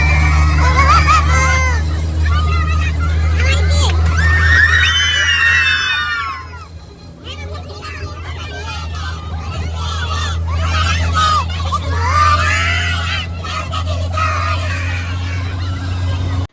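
School children on a picnic shout and scream loudly and in bursts over a noisy crowd babble, while a steady vehicle engine rumbles underneath.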